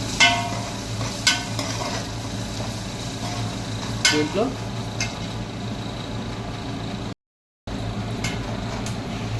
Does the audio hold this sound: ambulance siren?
no